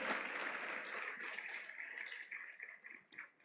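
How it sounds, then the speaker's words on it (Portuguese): A church congregation applauding during a Lord's Supper service, a soft, fairly distant wash of steady clapping that thins out and fades toward the end, with no voices over it. "você pode aplaudir o Senhor"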